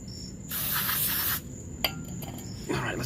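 Aerosol cleaner sprayed onto a removed brake fluid reservoir, a close hissing burst lasting about a second, followed by softer handling clicks and a second faint spray near the end.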